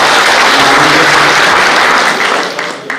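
Crowd at an outdoor BJP election campaign event in Khanapur applauds, a loud, dense burst of clapping that runs continuously and tapers off near the end.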